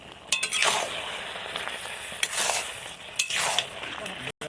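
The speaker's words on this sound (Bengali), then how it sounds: "ভেজে রাখা মাছগুলো ওপর দিয়ে দিয়ে দেবো একটু নেড়ে নেব" Fried hilsa fish is stirred into a kalmi greens curry in a pan, giving a soft sizzle broken by several swishing stirs and a few light metallic clinks close by.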